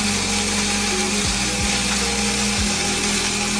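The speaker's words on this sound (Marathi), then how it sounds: "तर आता आपण हे पटकन मिक्सरमध्ये वाटून घेऊया" Mixer grinder whirring as it grinds raw masala spices with green cardamom, a steady loud motor drone with a few pitch dips as the load shifts, no talking.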